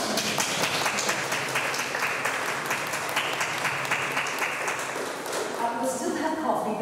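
A congregation inside St George's Church in Barcelona claps steadily, with sustained, fairly loud applause from many hands that fills the room throughout.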